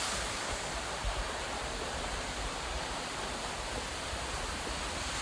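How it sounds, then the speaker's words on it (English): A waterfall on a trail section of the Appalachian Trail roars steadily and loud throughout, a dense unbroken rush of falling water with no pauses. "Look at that waterfall."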